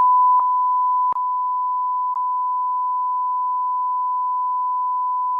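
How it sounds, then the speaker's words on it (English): A steady censor bleep tone holds flat and loud throughout, with a few tiny clicks or breaks in the tone early on, no voices over it. "Just put a big ass bleep."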